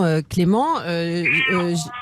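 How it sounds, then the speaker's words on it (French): A domestic cat meows loudly and repeatedly close by, with drawn-out rising and falling cries in an indoor setting, while a person speaks at the same time. "C'est bon, c'est le chat."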